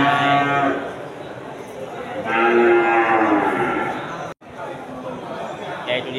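Aceh water buffalo give low, drawn-out moos at a busy buffalo market, several long calls rising over steady crowd chatter and nearby voices.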